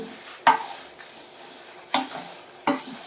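Spoon scraping and stirring lentils and curry leaves roasting in a dry pan, three sharp scrapes over a soft continuous rustle, close and fairly quiet.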